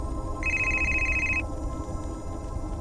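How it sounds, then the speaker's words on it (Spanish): A mobile phone rings once with a single steady, high electronic tone lasting about a second, heard over a constant low background hum. "su teléfono celular sonó"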